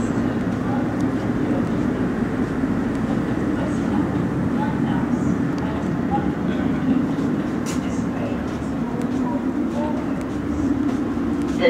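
London Underground S7 Stock train on the Hammersmith & City Line between Barking and Hammersmith, giving a steady, loud low rumble and running drone that continues throughout with little variation.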